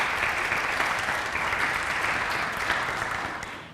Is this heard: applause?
yes